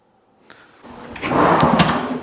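A workshop drawer holding rags, tape and a palm sander slides open with a rolling, rattling scrape, its contents shifting inside, loud and close.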